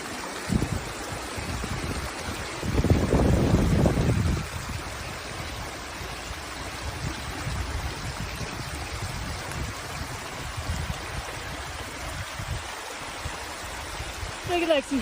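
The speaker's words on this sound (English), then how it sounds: "Look at Lexi, standing on a waterfall." Water pours steadily over a waterfall, a continuous broad rushing hiss that runs the whole time, with a short louder surge near the start and faint voices under it.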